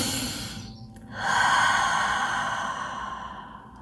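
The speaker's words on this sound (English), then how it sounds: "So take a deep breath." A slow, deep breath taken during a guided meditation: a quieter drawn-in inhale, then a long, full, airy exhale that fades gradually, close to the microphone with no speech.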